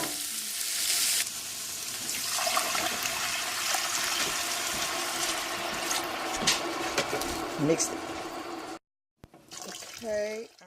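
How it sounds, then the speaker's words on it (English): Water is poured into a pot on the stove for chicken and rice, making a steady splashing rush that covers most of the clip, ends abruptly, then briefly returns, while a person speaks over it. "then I'm going to add my water in"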